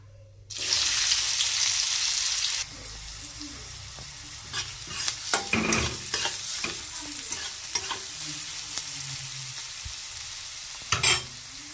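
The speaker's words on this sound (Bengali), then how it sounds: "পেঁয়াজ কুচিগুলো হালকা ভাজা ভাজা হয়ে এসেছে" Chopped onions fry in a hot wok with cumin seeds, a loud burst of sizzle at first, then a steady quieter hiss broken by repeated scraping, clattering strokes of a spatula stirring them.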